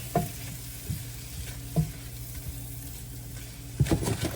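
Surimi crab meat frying in a pan over low heat with Old Bay, a soft steady sizzle with occasional stirring scrapes and a louder clatter near the end.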